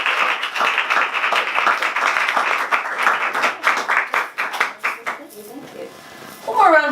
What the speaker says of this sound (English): Let's give a big round of applause for Aastha Lal.